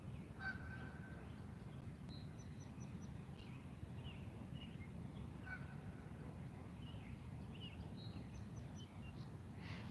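A goose honks in repeated short calls over a low, steady background rumble outdoors by the water, the honks faint and scattered, with no talking.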